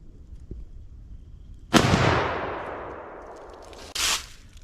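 A single loud, close shot from a Savage Model 116 Alaskan Guide rifle chambered in .375 H&H booms and rolls away in a long fading echo, followed by a brief second burst of noise.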